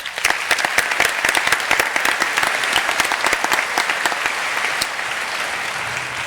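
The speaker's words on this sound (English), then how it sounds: "Let's give them another round of applause." A large audience at a graduation ceremony claps steadily for several seconds, dense overlapping applause that tapers slightly toward the end, with faint voices in the crowd.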